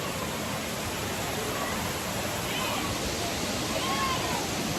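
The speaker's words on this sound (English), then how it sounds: "I'm about to get back to y'all at that waterfall over there" A rainforest waterfall, a steady, dense rushing roar of falling water that fills the whole clip without pause, with faint sounds in the background.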